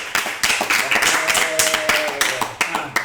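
A studio audience claps for a band, brisk close hand claps in a loose burst, with a voice talking faintly beneath.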